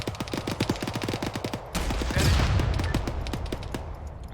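A fast, evenly spaced string of automatic gunshots in ArmA 3 is followed by a louder, heavier blast and its rumbling tail, then more scattered shots, all up close and loud.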